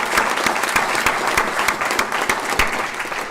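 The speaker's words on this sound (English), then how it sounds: "I would ask that you too receive a round of applause" Steady applause from a seated audience at a criminal justice board meeting, dense clapping holding at an even level for a few seconds without a break.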